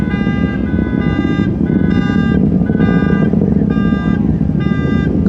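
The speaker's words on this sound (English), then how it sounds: "it set off some car alarms" Car alarms, set off by the launch of ULA's first Vulcan rocket, blare in a repeating pattern of high electronic tones, pulsing about once per second over a loud, steady roaring rumble.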